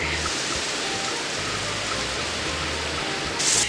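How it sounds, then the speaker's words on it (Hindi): Heavy monsoon rain pouring down steadily outdoors, a dense continuous hiss with a slight swell near the end. "जब हुई थी बिल्कुल झमाझम वाली बारिश"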